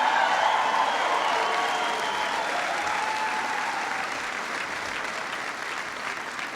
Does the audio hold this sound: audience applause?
yes